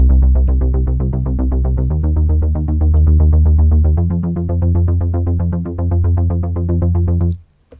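A fat synth bass from Logic's ES2 runs through a 16th-rate arpeggiator, pulsing rapidly and evenly. The pitch steps to new notes every couple of seconds. The sound is loud and alone, with no voices, and cuts off near the end.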